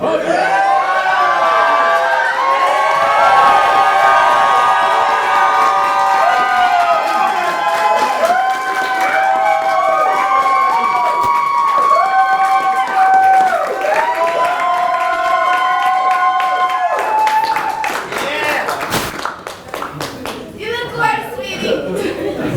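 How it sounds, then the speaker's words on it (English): Guests at a wedding ceremony applauding and cheering after the couple's kiss, loud sustained clapping and whoops with music playing over it, dying down near the end. "I think y'all gonna have some more applauding to do in just a second."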